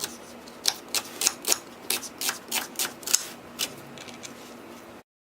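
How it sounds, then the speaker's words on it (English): A knife chops an onion into chunky pieces on a cutting board, giving a steady series of about a dozen sharp, close taps that slow and fade toward the end. "Now I'm gonna chop up my onion."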